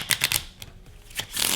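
A deck of playing cards is riffle-shuffled in a card trick, giving quick fluttering bursts of clicking at the start and again at the end, close and fairly quiet, with no speech.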